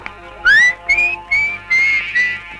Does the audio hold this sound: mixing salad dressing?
no